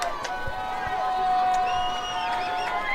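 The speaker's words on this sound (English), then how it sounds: "Listen to this crowd. Dunleavy Field is getting loud." Spectators at a high school football game between Oakdale and Sonora at Dunleavy Field, a steady roar of crowd noise with scattered cheers and whistles rising in volume, continuous and fairly close.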